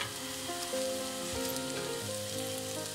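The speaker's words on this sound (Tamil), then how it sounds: "கட் பண்ணி வச்சிருந்த பரோட்டாவை இதில் ஆட் பண்ணி கொஞ்ச நேரம் வேக விடணும்." Cut parotta pieces cook in a hot pan with a continuous soft sizzle, heard alone over a faint steady background hum.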